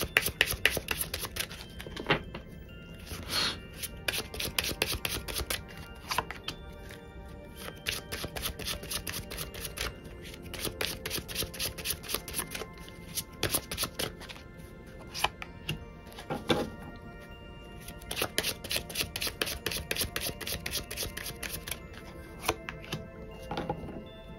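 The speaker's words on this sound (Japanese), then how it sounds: "アドバイスカード引いていきます" Tarot cards shuffled and flicked in rapid, crisp bursts of papery riffling, close and clear, with short pauses between rounds of shuffling and drawing.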